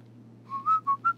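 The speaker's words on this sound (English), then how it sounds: "when you're janitor, you know you gotta whistle" A person whistling as a janitor character in GTA 5, a short tune of four quick clear notes rising and falling, close and alone over faint low background hum.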